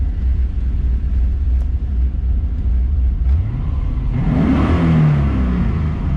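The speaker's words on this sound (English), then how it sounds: "So if I hit it and floor it, so right now, as you can see, I'm gonna rev it up." A C4 Corvette engine idling with a deep, loud rumble, then revved up near the end as the pitch climbs and the engine roars, heard alone without talking.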